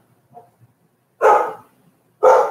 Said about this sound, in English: My dog is noticing someone living their life outside and is not approving of that situation